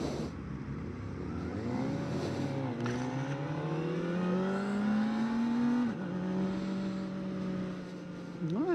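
A 2024 Kawasaki ZX-4RR engine revs as the throttle is turned, its pitch sweeping up and down in rising and falling whines, close and fairly loud with no talk.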